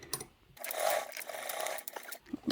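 A sewing machine stitching the base onto a handmade tote bag, one steady mechanical whir lasting about two seconds, close and clear, between short bursts of handling noise.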